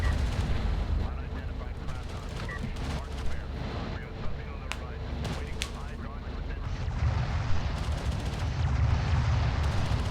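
Gunfire and explosions from the real-time strategy game Homeworld: Deserts of Kharak, with rumbling bursts of weapon fire and sharp cracks over a continuous low battle rumble, while a commentator talks over the action.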